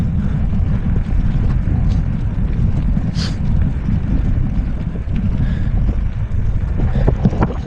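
Strong wind buffets the microphone in a continuous low, rumbling roar that stays loud the whole time.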